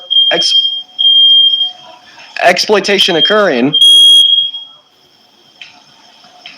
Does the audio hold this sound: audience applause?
no